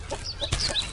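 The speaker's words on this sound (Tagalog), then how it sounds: "Kay nagtiktilaok na ang manok" Chickens on a Cebu resort property in the morning, with short clucking calls and a brief crowing burst over outdoor ambience, moderately near and without speech.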